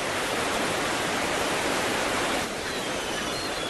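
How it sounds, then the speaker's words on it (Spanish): White Nile in Uganda rushing out of the lake as a wild torrent, a dense, continuous roar of turbulent water, loud and steady with no voices. "El Nilo Blanco se lanza a la vida desde el extremo noroeste del lago, como una corriente salvaje y tumultuosa"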